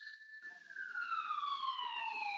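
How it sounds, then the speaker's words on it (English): An emergency vehicle siren wails outside, faint and distant, its tone sweeping down steadily over a couple of seconds. "Sorry for the sirens."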